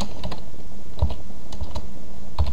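Fast typing on a computer keyboard while entering Minecraft chat commands, a close run of sharp key clicks in small bursts with brief pauses between them.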